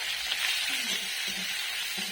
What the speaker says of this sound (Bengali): তেল গরম হয়ে গেছে দিয়ে দিচ্ছি পেঁয়াজ বাটা লঙ্কা টমেটো